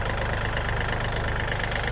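A nearly new 2023 Kubota L3218SP 4WD compact tractor with about 100 hours of use sits idling, its diesel engine putting out a steady, close, even chugging throb with no pauses.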